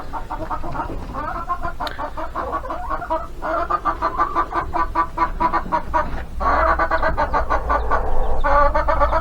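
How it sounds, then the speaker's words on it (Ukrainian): A flock of hens being let out clucks in rapid, overlapping bursts, getting busier and louder toward the end, close and with no talking. "Так, зараз я випускаю наших курей."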